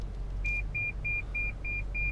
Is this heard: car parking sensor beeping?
yes